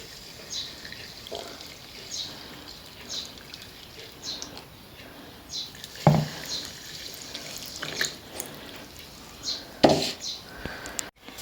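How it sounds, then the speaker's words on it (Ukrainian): Water is poured into glass jars of green peas with salt and vinegar for canning, a continuous trickle with sharp glassy clinks and knocks scattered throughout. "І заливаємо водичкою"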